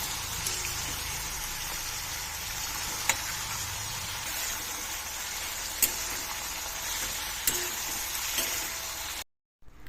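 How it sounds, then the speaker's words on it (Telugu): Brinjal pieces fry over a medium flame in a continuous, close sizzle, with occasional sharp clicks as they are stirred, before the sound abruptly stops. "ఇలా కలుపుతూ ఫ్రై చేసుకోవాలండి."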